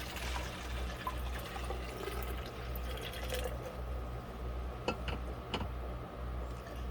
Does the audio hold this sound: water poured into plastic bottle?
yes